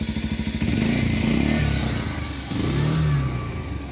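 A Bajaj Pulsar 125 motorcycle engine idles then revs up close by, a throbbing mid-pitched exhaust note that rises, dips briefly and climbs again, loud and continuous.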